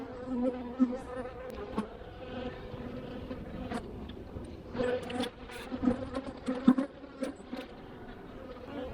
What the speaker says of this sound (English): a lot of the bees up here, they're just drawing out comb.